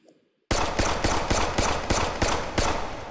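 A rapid string of roughly eight loud M1911 pistol shots in the H3VR virtual-reality shooting game, each crack sharp and close, fired in quick succession after a brief silent pause.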